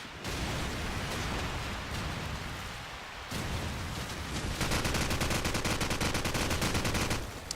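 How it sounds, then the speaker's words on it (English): Rapid, dense gunfire fills a competitive shooter video game match, with continuous bursts and volleys running almost unbroken and a brief lull midway. "So far, the initial shots not really doing anything"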